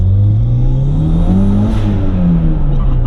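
A turbocharged Toyota MR2 with a 3S-GTE engine accelerates hard, its loud, close engine note climbing steadily in pitch as it pulls through the revs, with no talk over it.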